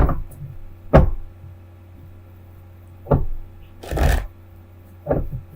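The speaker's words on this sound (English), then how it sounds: "Just pull up all the cards here." Tarot cards being handled and pulled on a slightly unstable table during a love reading, with a few separate brushing and tapping bursts spaced seconds apart over a low steady hum, close and otherwise quiet.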